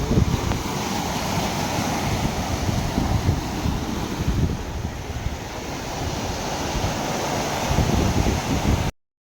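Sea waves at Dhanushkodi beach roar in a continuous, broad wash, with gusts of wind buffeting the microphone throughout and no talk, then cut off abruptly at the end.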